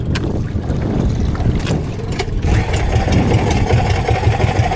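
The engine of a Pacific Aerospace P92 runs steadily after a restart, a rough, continuous idling rumble close by with intermittent clicks and knocks, no talk over it.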